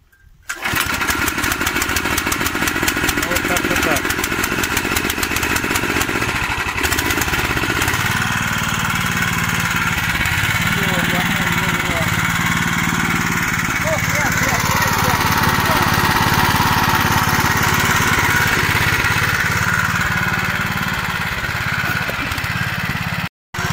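A Soviet walk-behind tractor fitted with a Chinese engine runs loud and steady throughout, a continuous rough small-engine drone with a hot exhaust muffler, close by, ending abruptly near the end.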